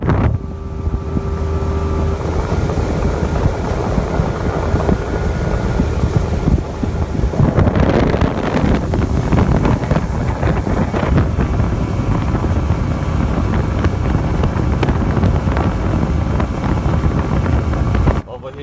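An aluminum Alumacraft boat's motor drones steadily over water, with heavy wind buffeting the microphone throughout and a rougher surge of engine noise partway through.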